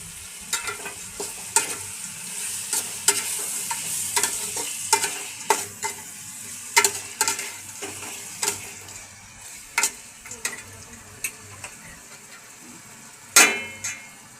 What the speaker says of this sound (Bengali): 2-3 মিনিট ধরে টমেটোটা আমি একটু ভেজে নেব।